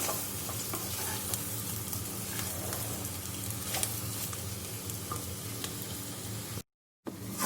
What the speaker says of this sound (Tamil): மீல் மேக்கர் போட்டு நல்லா மிக்ஸ் பண்ணி விட்டுருவோம்.